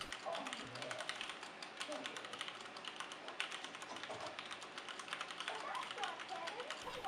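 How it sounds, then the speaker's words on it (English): Typing on a Kinesis ergonomic keyboard: rapid, steady clicking keystrokes run continuously and close-up, with the clatter somewhat loud and even throughout. "You can hear that the keys on this keyboard are a bit louder than the Asus laptop keyboard"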